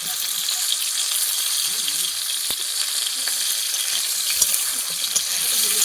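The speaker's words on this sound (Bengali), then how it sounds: "তেলটা একটু বেশি করে দিলে গরম তেলে পটলগুলো ভেজে নেব।" Pointed gourds frying in plenty of hot oil in a kadai, a steady broadband sizzle running throughout at close range, with occasional light stirring clinks.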